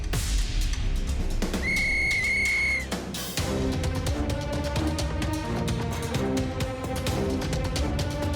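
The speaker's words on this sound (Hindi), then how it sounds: "सीटी बजाते ही रेस शुरू हो जाएगी" In a cartoon, a whistle is blown to start a race, giving two shrill bursts against busy background music and effects, then the music carries on alone.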